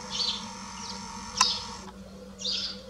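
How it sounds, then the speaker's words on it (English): Several birds call in a courtyard in the middle of a city, with brief high chirps and song bursts near the start, middle and end over a steady low hum. "we have all kinds of birds."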